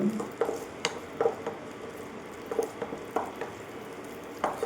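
Carrot halwa being stirred in a pan, with a steady scraping swish broken by intermittent soft clinks and scrapes of the spoon against metal, close and moderate in level, no voices.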